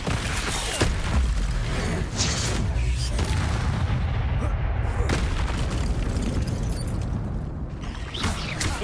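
Incendio fire spell cast in Hogwarts Legacy, a continuous loud booming, roaring battle din with repeated whooshing bursts of flame throughout.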